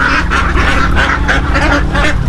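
Domestic ducks (itik) quack in a loud, continuous chorus of overlapping nasal calls beside a small backyard fishpond, close and steady throughout with no talking.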